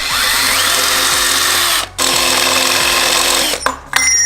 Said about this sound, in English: I drill and tapped a hole for this